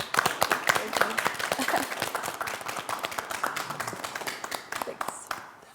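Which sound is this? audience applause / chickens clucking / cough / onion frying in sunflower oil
audience applause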